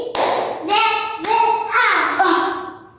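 Several sharp hand claps ring out in a rhythmic sequence, close by, mixed with children's voices chanting along.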